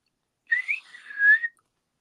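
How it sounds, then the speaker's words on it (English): A short whistle linked to the monster Mothra from the Mothra film: two clear, sweeping tonal phrases about a second long, heard alone against silence. "Little Mothra whistle."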